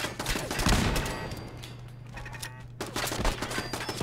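Automated turrets in Fallout 4 firing sustained bursts, a dense rattling fusillade that pauses briefly and then resumes, loud and close with no voices over it.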